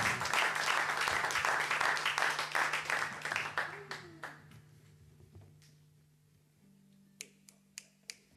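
An audience applauds a band on a live radio show, dense clapping that fades to a few scattered claps near the end, with a faint voice beneath.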